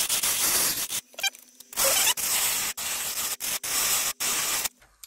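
Rotary sanding disc working the tight corners of a vacuum-formed plastic slot car body shell, a hissing abrasive rasp in repeated bursts broken by short pauses, with a squeak early on.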